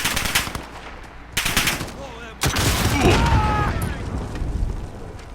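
Gunfire in Call of Duty Warzone, loud close bursts of automatic fire in several clusters with booming impacts, over continuous game noise.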